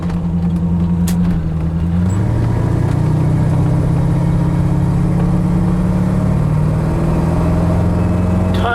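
A 1932 Ford three-window coupe drives along with its engine running: a loud, steady low rumble that shifts pitch as the car moves up through the revs, heard close from inside the car with no talking.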